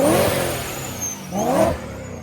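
A BMW M3 track car engine revs twice after a blow-off valve repair, the note climbing in two close, loud surges with a brief dip between them.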